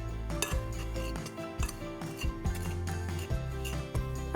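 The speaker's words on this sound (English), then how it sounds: "And mix it all together." Keto dough ingredients for a gluten-free cinnamon cereal are stirred together with melted coconut oil, with a utensil scraping and clinking against a bowl in irregular taps and knocks, close by and fairly quiet.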